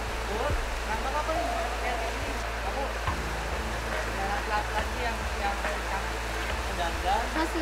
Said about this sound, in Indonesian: Masih hujan lah